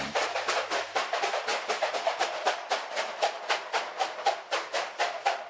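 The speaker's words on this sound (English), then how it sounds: "Not one, not two, but 3 steam engines on one train." A train hauled by three steam engines passes close by, its wheels beating out a fast, regular rhythm of sharp clicks and chuffs that holds steady and fairly loud throughout, with no voices.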